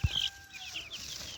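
A small hen in a netted backyard coop clucks in a few soft, quick bursts, fairly close and alone, with no talk.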